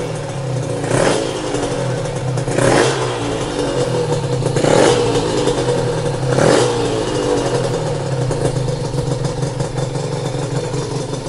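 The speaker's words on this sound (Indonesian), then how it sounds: "Akhirnya motor ini nyala." A restored Honda NSR two-stroke motorcycle engine runs steadily, its low idle punctuated by four evenly spaced throttle blips that rev up briefly and settle back.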